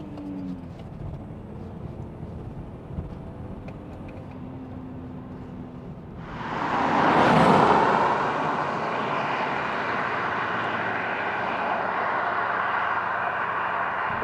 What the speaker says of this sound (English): Let's just take it through the gears here and see if that four-wheel drive system has blunted the performance.